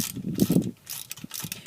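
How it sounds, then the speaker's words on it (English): A wrench turns a rounded-off quarter-inch Allen head bolt loose on a Dana 60 hub, giving a few short, faint ratcheting clicks and metallic scrapes close by. "1/4 inch Allen head bolt, which on this one is very rounded off and almost couldn't get off. Just loosen that up"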